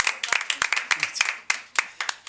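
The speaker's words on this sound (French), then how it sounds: "On peut les applaudir quand même." A few people in a restaurant give a short, sparse round of applause, with distinct individual claps ringing out close by in an uneven rhythm for about two seconds.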